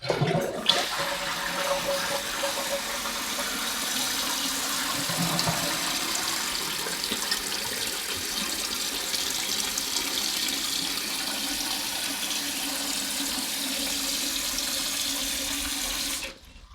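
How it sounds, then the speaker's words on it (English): A toilet fitted with a Fluidmaster fill valve flushes with a loud rushing surge, then the tank refills in a steady hissing stream of water that continues evenly until it stops abruptly at the end. "So I'm going to check the flush."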